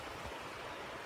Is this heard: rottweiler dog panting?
no